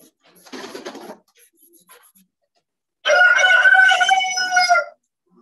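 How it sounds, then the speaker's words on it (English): A pigeon calls close by: first a soft, brief murmur, then after a pause a louder, drawn-out cooing call lasting nearly two seconds, with silence between them. "the pigeon is being such a good model for me"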